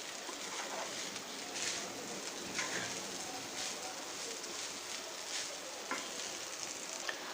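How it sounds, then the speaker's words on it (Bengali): Restaurant-style mixed fried rice tossed and stirred in a hot pan, a steady moderate sizzle with recurring scraping strokes of the spatula throughout, no talking. "তো আরও 1 মিনিটের মতো আমি এখন ফ্রাইড রাইসটাকে একটু নেড়ে চেড়ে দেব।"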